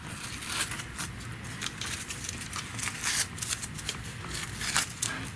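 Tape peeled away from an embroidery hoop in a run of quick, crackling rips and tugs, close and fairly loud, with no talking.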